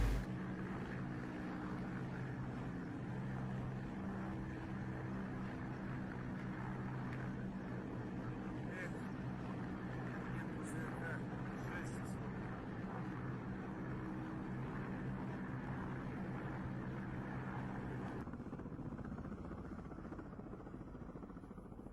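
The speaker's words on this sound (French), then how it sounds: "De nombreux hélicoptères de combat russes traversent la frontière ukrainienne." Russian military combat helicopters' rotors thump in a steady, continuous drone, moderately distant, holding without pause for the whole stretch.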